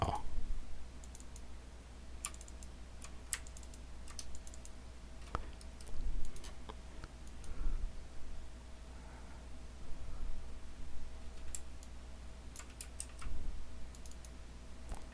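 Computer mouse clicking during Inkscape drawing work, scattered sharp single and double clicks at close range over a steady low electrical hum, with no talking.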